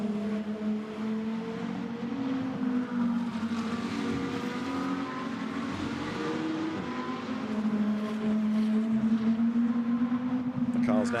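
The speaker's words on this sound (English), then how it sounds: "the number 88 Audi charging along and closing onto the tail of the Porsche" GT2 race cars, an Audi and a Porsche, racing at Monza, a steady droning engine note with sliding pitch as the cars charge through the bends, heard under continuous commentary.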